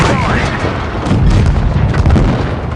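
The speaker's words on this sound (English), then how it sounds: "the application of focus fire from 4 tanks onto 3" Tank cannon fire in a tank combat video game, with a T-150 among four tanks concentrating shots on enemy targets: loud, dense booms and blasts that rumble continuously over a busy battle din.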